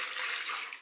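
250 ml of warmed milk poured from a measuring saucepan into a bowl, a short, close, splashing liquid pour that fades out at the end.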